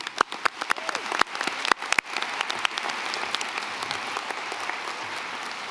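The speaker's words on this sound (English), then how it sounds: "About a round of applause for our honor students." An audience applauds honor students at a 2017 commencement ceremony, a few sharp claps at first that swell into dense, sustained clapping from a large crowd.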